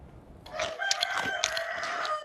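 A rooster crows loudly and close by after a short quiet start, one drawn-out cock-a-doodle-doo over faint background noise.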